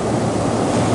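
Ocean surf breaking on an Oregon beach north of Newport, a loud, continuous wash of waves with no pauses, close to the microphone and mixed with some wind noise.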